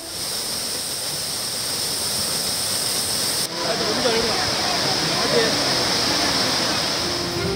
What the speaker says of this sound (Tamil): தொடர் மழையால் குற்றாலம் அருவிக்கு நீர்வரத்து அதிகரிப்பு.